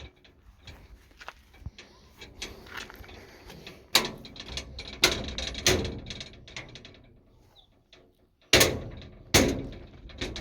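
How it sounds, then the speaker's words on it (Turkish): Old door being opened at a rural family house, with creaking, clicking latch and mechanism rattles, several sharp knocks and bangs scattered through, close and fairly loud. "Normalde açılıyor kapı."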